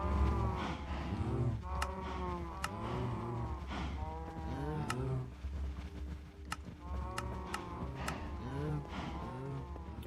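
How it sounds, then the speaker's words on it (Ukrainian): Cows in the game Minecraft moo repeatedly, overlapping low drawn-out calls close by and loud, with a few sharp clicks scattered between them. "У мене тут корови, боже, як голосно"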